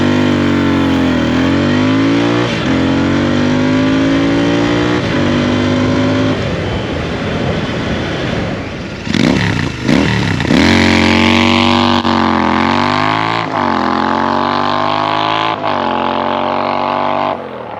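A Royal Enfield Interceptor motorcycle engine revs hard accelerating from 0 to 100, climbing in pitch through several gear changes of its 6-speed gearbox, loud and close, with a brief drop between shifts.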